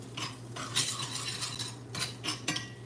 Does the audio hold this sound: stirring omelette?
yes